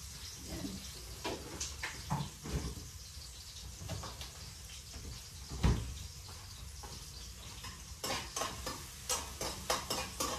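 Onion is stirred and sautéed in a pan, a soft sizzle broken by repeated scraping strokes and clinks of the spoon, close but fairly quiet, with no talking.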